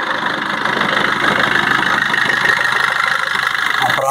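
Engine of a 2020 Maruti Suzuki Vitara Brezza in good condition idling with the bonnet open, a steady mid-pitched hum with a faint knocking texture, close and continuous throughout.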